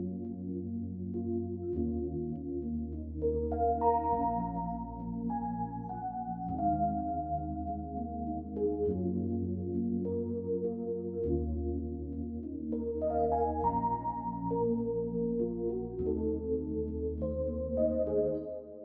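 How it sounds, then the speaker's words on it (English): A layered R&B melody on the EP New York City electric piano from Analog Lab, sustained chords with a brighter melodic line moving on top, steady and close with no talk. "So I got this electric piano out of Analog Lab."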